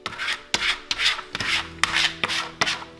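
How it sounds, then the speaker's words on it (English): A squeegee rubs application tape down onto a vinyl decal in repeated firm strokes, about eight rasping swipes in a steady rhythm, close and alone with no talk. "I'm gonna grab my squeegee,"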